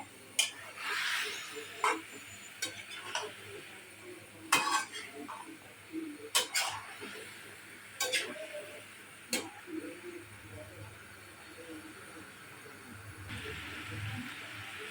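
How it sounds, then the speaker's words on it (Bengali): A metal spoon stirs and mixes food in a cooking pot, with sharp irregular clinks and scrapes against the pot over a low simmering background, moderately close. "নেড়ে ছেড়ে ভালোভাবে মিশিয়ে নিতে হবে"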